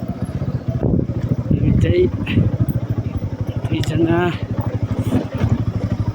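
Two motorcycles carrying four riders chug slowly over a rough, broken road, their engines a loud, close, steady throbbing drone with bumps and revs, while people talk over the noise.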